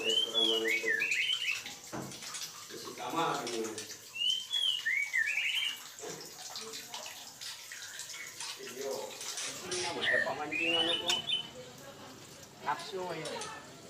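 A white-rumped shama, or murai batu, kept by a bird breeder sings rising whistled phrases in short bursts, fairly close, over running water and people talking.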